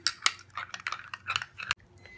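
A spoon stirs lemon juice and other ingredients into a face paste, giving close, repeated clinks and scrapes against a bowl in an uneven rhythm.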